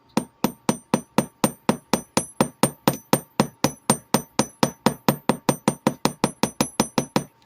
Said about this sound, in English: So I need to hammer the front